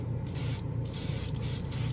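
Tamiya basic clear hisses from a spray can in three or four short bursts with brief gaps between them, loud and close.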